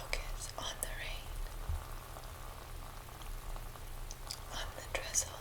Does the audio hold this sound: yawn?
no